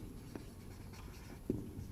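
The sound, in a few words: writing on the board during a maths lesson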